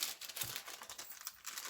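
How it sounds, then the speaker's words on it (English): A crinkly paper bag is handled up close, giving quiet, irregular crinkling and rustling bursts with no voices. "And here is a paper bag. Nice crinkly bag"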